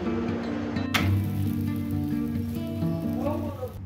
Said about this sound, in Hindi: तो ये गया मेरा आलू का पराठा तवे में।